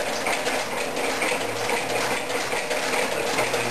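Shoe repair stitching machine sewing a heel liner into a ladies' shoe, with a steady mechanical ratcheting whir running continuously and close throughout, no voices over it.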